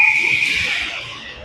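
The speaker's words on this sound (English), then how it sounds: "Whistle gets blown when Fogle got close." A referee's whistle at a hockey game sounds as a loud, sustained high shrill tone lasting over a second and slowly fading, with faint arena noise beneath and no talk.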